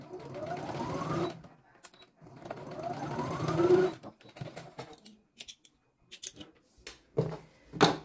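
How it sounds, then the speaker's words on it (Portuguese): A sewing machine stitches along a fabric edge in two steady bursts of rapid whirring, followed by scattered clicks and handling taps as the fabric is adjusted, close and fairly loud with no talk. "Passar uma costurinha bem na beiradinha"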